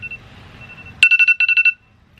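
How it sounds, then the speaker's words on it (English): A phone alarm ringtone cuts in suddenly, a bright electronic melody of quick pulsing beeps in two bursts, loud and close after a low background murmur. "Oh my gosh, my alarm. That's my alarm for work."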